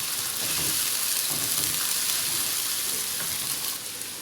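Minced meat frying with ginger-garlic paste in a pan for keema do pyaza, a loud, dense, continuous sizzle with crackling hiss throughout, close up and without talk.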